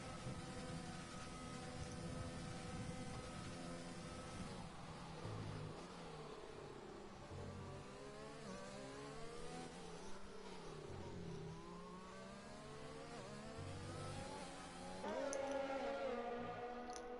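An onboard Racing Point Formula 1 car engine in a racing video game at the British Grand Prix, revving high and sweeping up and down through gear changes, loud and continuous with no talk over it.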